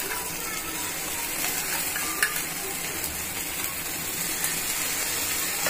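Crab pieces stirred into sautéed masala in a pan, giving a steady close sizzle and frying hiss with occasional scraping stir sounds throughout.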